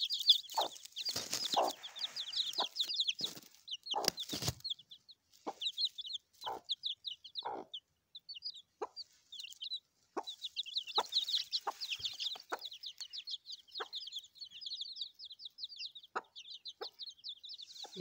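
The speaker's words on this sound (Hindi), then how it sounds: "ये लगता है कि ये हमसे डर रही है मुर्गी।" A hen with her chicks, the hen giving low clucks in short bursts while the chicks keep up rapid high cheeping almost continuously, close by and with no talk.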